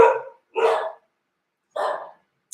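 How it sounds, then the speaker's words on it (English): Dogs barking at home: three sharp, separate bark bursts, fairly close and loud, with silence between and no talking. "Sorry, my dogs are barking. Hopefully they'll stop."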